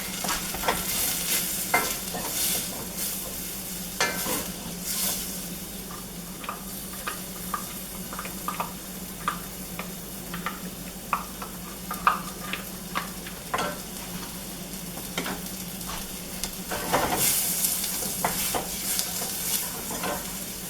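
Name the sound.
onion and garlic frying while being stirred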